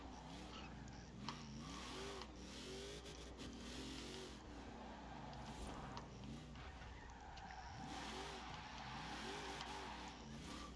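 Hot Wheels 2005 Mustang in Forza Horizon 4 racing game, its engine revving up and down in repeated surges while tires squeal through a drift, loud and continuous with no talk.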